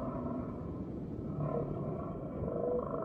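A humpback whale and her calf, already weighing 1.5 tonnes, vocalize in a low, continuous groaning drone that swells slightly in the middle and toward the end, steady and alone without any talk.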